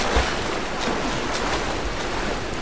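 Continuous rushing waterfall from Tomb Raider Definitive Edition on PS4, a broad, even roar of pouring water with a faint low thump near the start and no talking.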